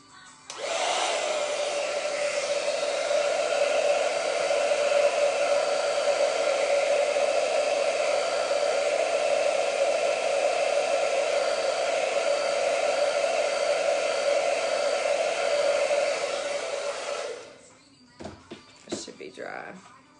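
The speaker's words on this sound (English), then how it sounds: "I'm going to dry what I've already done so we don't mess it up" A hair dryer blows steadily and loudly for about seventeen seconds, drying chalk drawing on a chalkboard, then cuts off, leaving a few faint handling clicks.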